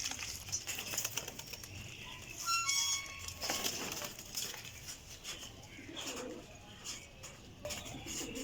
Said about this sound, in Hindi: लाल अखां दा कमगर गोल्डन कबूतर